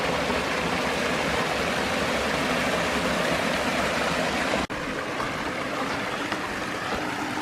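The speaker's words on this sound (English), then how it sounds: "On kind of the main channel of the creek here. Lots of gorgeous little cascades like this." Water pouring steadily over small cascades along the main channel of a forest creek in a canyon in Bankhead National Forest, Alabama, a dense continuous rush heard close up with no voices.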